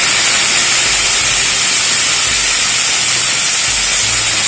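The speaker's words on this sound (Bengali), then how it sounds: "বেগুনটা একটু ভেজে নেব।" Cut eggplant fries in hot mustard oil with panch phoron and slit green chilies, giving a loud, dense, steady hiss that runs unbroken from start to finish with no voices.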